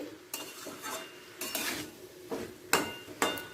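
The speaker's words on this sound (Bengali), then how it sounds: "এই সময় দিয়ে দিচ্ছি টমেটো আর ভর্তি এক চামচ আদা বাটার দিয়ে একবার ভালো করে মিশিয়ে নিচ্ছি" A spoon stirs tomatoes and ginger paste in a pan, giving repeated scraping and clinking strokes against the metal with a faint sizzle underneath, close up and without speech.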